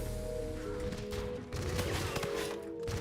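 Rapid bursts of automatic gunfire in the game Call of Duty: Infinite Warfare, fairly faint and continuous under background game noise.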